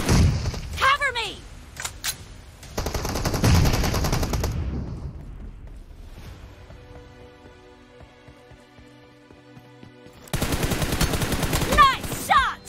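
Rapid bursts of automatic gunfire in the shooter game PUBG, with loud dense volleys at the start, a sustained stretch of firing, a quieter lull, then another intense burst near the end, and voices talking in between.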